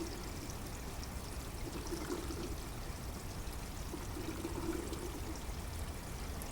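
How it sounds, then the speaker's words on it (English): Water pours steadily through an aquaponics bell siphon, a constant close rushing trickle with faint gurgling swells that rise and fall as the siphon slurps. "You'll hear it slurp every now and then slurp again."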